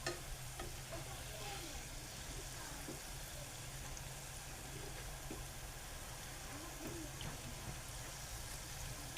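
Urad dal bhaji, round gram-flour fritters, bubble in deep oil as they are turned over, a steady close hiss with faint scraping, no one speaking.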